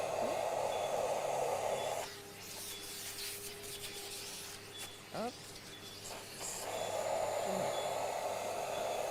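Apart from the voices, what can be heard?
vacuum cleaner running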